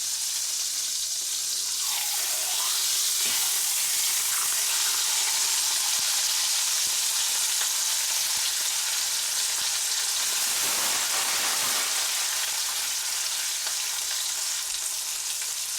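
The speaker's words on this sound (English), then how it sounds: "to turn over when it stops sizzling" Steady, loud sizzling of freshly gutted, salted fish frying in a hot pan, a continuous crackling hiss throughout with no voices.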